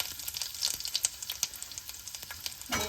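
Chopped ginger pieces frying in hot oil, a light crackling sizzle with scattered pops close by, ending in a louder burst of sizzle, no voices.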